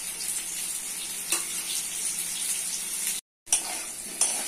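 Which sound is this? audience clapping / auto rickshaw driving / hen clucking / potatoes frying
potatoes frying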